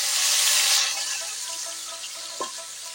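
Fish frying in very hot oil, a steady loud hissing sizzle that is strongest at the start and then eases slightly, with no talking.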